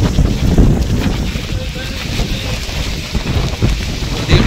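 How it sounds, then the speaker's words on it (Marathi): Strong, storm-like wind gusts on a mountain pilgrimage route to an ice cave, a loud, roaring rush that buffets the microphone in uneven surges throughout. "काय जबरदस्त वारा आहे"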